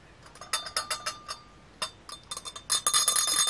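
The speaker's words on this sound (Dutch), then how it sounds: "Oh, ik heb nog een belletje." A small bell rings in a quick series of bright, close strikes, briefly pausing, then ringing more rapidly and continuously toward the end.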